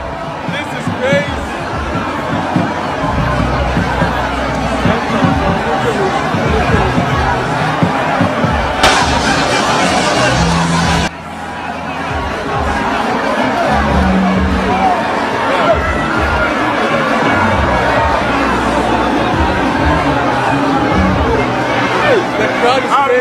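A huge, dense crowd at an NPP internal election event roars and chatters nonstop, with cheers and shouts blending into a loud, continuous wall of noise that drops for a moment midway and then swells again.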